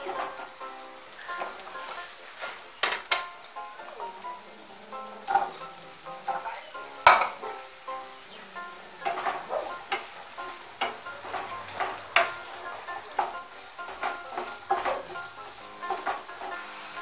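Sliced potatoes fry in a pan with bitter gourd, giving a soft continuous sizzle broken by repeated scraping stirs and clinks of a spatula, close and moderately quiet, with no talk.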